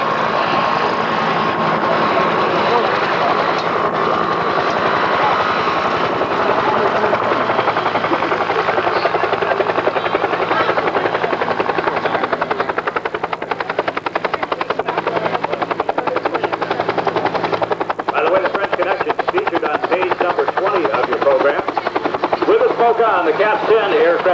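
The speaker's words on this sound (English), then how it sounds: "The Cap 10 aircraft now starting out into a dive" A Cap 10 aerobatic aircraft flies at an air show in Schenectady, its engine a steady drone that holds loud throughout while an announcer talks over it across the show grounds.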